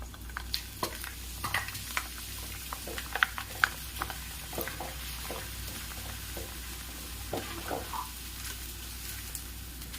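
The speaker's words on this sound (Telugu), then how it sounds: "మనము దీంట్లో మక్కటుకులు వేసి వేయించుకుందాం" Corn flakes frying in hot oil in a pan, giving a soft, continuous close sizzle broken by light scattered crackles and small stirring taps throughout.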